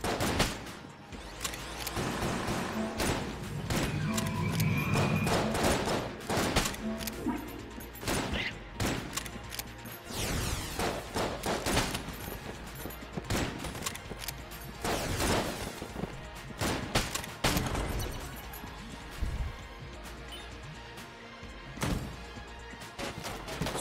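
A player fires guns nonstop in Enter the Gungeon, a long run of rapid, punchy shots and bursts mixed with crashes and thuds, loud and busy throughout with only brief lulls.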